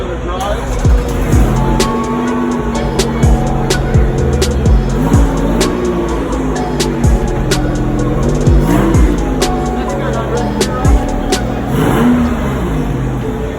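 A 2000 Toyota MR2 Spider drives at a tuner car build competition, its engine revving and shifting with harmonic sweeps and occasional sharp transients, while an announcer talks loudly over it throughout.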